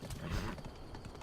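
Horse hooves clip-clop in The Legend of Zelda: Breath of the Wild, a short burst of rhythmic hoof beats from a ridden horse, fairly close and alone.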